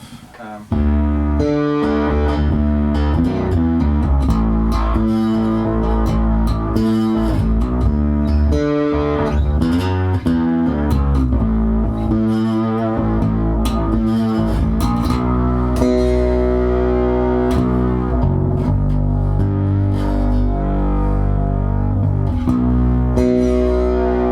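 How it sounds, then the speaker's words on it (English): Heavily distorted electric guitar chords play continuously and loudly, thick and saturated, with rhythmic changes throughout. "the chorus sound I switch across to the distortion"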